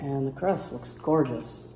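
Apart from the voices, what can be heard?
None of the usual background noises is heard.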